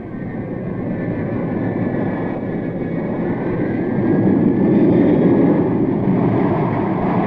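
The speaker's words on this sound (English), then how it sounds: "arrive in the comfort of TAP's great jets at Lisbon's modern Portela Airport" Jet airliners at Lisbon's Portela Airport produce a broad, heavy engine roar with a high whine on top, swelling louder midway and staying steady, with no voices.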